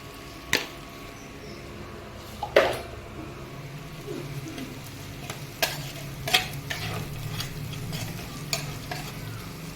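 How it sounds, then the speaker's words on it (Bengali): Spice paste with a little sugar fries in a pan, a low continuous sizzle punctuated by sharp scrapes and knocks of a spoon stirring it, several spaced strokes close by. "মশলাটা পুরো সম্পূর্ণভাবে ভাজা ভাজা হয়ে গেছে।"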